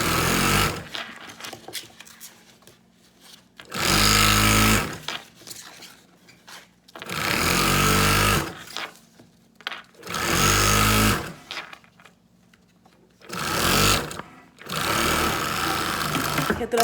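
A sewing machine stitches through a layered fabric sandwich for a travel pouch with a clear window, running in five loud bursts of a few seconds each, separated by quieter pauses with faint handling noise.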